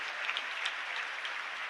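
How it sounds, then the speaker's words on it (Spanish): Applause from a church congregation in a parish hall honouring a priest, a dense steady clatter of many hands that fills the whole stretch without pause, no voices above it. "un fuerte aplauso entonces para el Padre Doctor Víctor Luis Cabañas"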